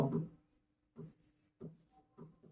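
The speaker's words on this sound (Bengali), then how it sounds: "আমি তারপরে সংখ্যাগুলো লিখে দিচ্ছি" Numbers being written on a board during a maths lecture on matrices, four short scratchy strokes in quick succession, close and fairly quiet, with nobody speaking over them.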